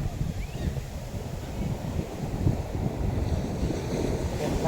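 Big sea waves roll and rumble at the shore, a low churning wash of surf under steady wind buffeting the microphone, moderately loud with gentle swells in level.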